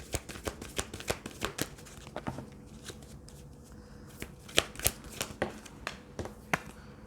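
A deck of tarot cards is shuffled by hand in a series of crisp, close riffling snaps and flutters, irregular bursts at modest volume with no talk.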